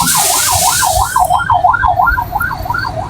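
A loud wailing police siren sweeps rapidly up and down in a steady rhythm, close by, with low traffic rumble underneath.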